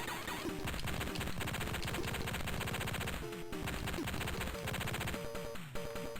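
Rapid, dense bursts of explosions and gunfire from the 1993 Tandy Color Computer 3 game The Contras crash continuously and loudly as the player crosses an exploding bridge, layered with booming impacts and a busy synthetic soundtrack.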